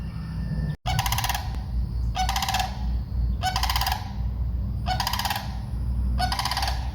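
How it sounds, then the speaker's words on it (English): Geese honk loudly in five evenly spaced bursts of rapid, nasal calls, each lasting about half a second, over steady outdoor background noise. "That's those annoying birds."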